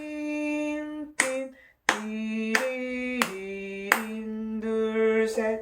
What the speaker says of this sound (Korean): 이 네 마디를 같이 또 클래핑으로 박수로 가볼게요